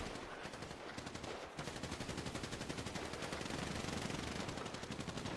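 Rapid automatic gunfire in GTA, sustained fast bursts of shots that continue almost without pause, loud and close, with no talking over them.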